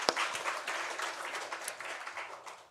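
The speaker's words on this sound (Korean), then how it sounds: "우리 하나님께 영광의 박수 올려드리겠습니다." A church congregation gives a short burst of applause during a Sunday service, a soft spread of many hands clapping at a distance that fades within a few seconds.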